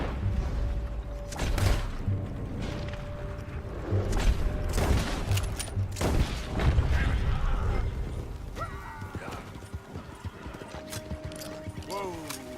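Gunfire in Red Dead Redemption 2 crackles in loud bursts over horse hooves, rumbling booms and speech during an armed standoff with the United States Army, then gives way to quieter clatter near the end.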